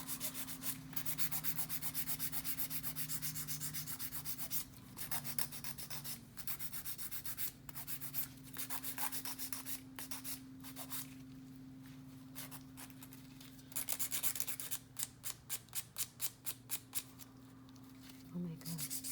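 Steady, close rasping and scrubbing as an acrylic nail is buffed, with quick repeated strokes that speed into a rapid rubbing burst near the end.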